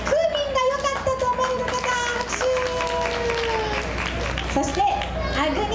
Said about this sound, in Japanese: 南城市のナンジーが良かったと思われる方拍手